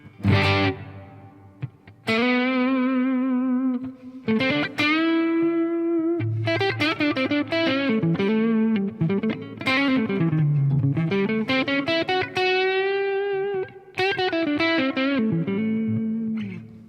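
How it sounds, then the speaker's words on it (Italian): Electric guitar played through the hall or plate reverb of a Blackstar St. James amp plugin, sustained chords and single notes ringing out with long decaying tails, loud and continuous with brief gaps, no voices. "E poi in ultimo abbiamo il pedale di riverbero. Possiamo scegliere tra una hall o una plate."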